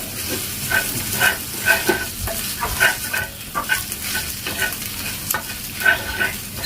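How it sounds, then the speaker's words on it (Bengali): Scrambled egg bhurji with spices, South Indian style, is stirred and fried in a pan, with a loud close sizzle and repeated scraping stirs in a steady rhythm throughout. "এখন দ্রুত হাতে নেড়ে চেড়ে মশলার সাথে ডিমটাকে একদম ঝুরো ঝুরো বা স্ক্রাম্বল করে ভেজে নিতে হবে"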